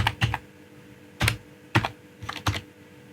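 Numbers are typed on a computer keyboard in short bursts of close, crisp key clicks, two quick taps, then single presses and a final cluster, over a quiet room with no talking.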